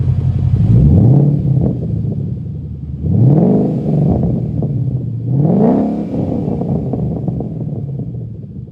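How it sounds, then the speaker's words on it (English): A car engine fitted with a Flowmaster Outlaw exhaust revs up three times in succession, each loud, rising roar falling back to a rumbling idle between pulls, with no talking. "This car, it just has the Flowmaster Outlaws, and it sounds phenomenal"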